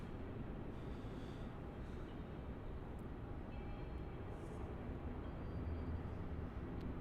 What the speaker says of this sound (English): that's a turn and burn for this Jetstar A320 off to the Gold Coast